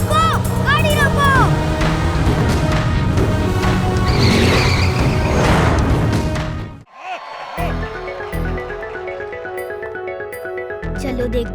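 A cartoon car roars along with engine noise and a sharp tire squeal as it brakes, then stops with a thud before quieter music and animated effects continue, all under shouted dialogue.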